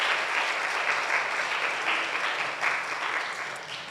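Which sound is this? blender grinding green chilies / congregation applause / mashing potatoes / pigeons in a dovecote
congregation applause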